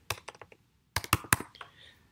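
A Mac computer keyboard is typed on in two short bursts of crisp, close key clicks separated by a brief pause.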